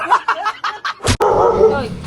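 A rapid run of about six short, yappy barks, likely a person imitating a dog, breaks off with a sharp bang and is followed by voices and laughter.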